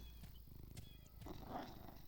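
A cat purring in the fantasy RPG Edge of Eternity, a low, steady rumble with a faint growling edge lasting a couple of seconds, quiet and close with no talk over it.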